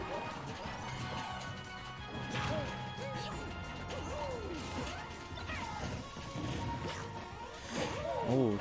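Rapid smash-and-thwack impacts from up smash attacks in a Super Smash Bros. match between Banjo and Kazooie and Mario, bursting repeatedly amid game effects and whooshes while a commentator talks excitedly over them.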